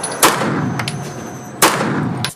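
Two sharp, loud 9mm pistol shots ring out at a shooting range in Belgium, the first near the start and the second about a second and a half later, each followed by a lingering echo of the range.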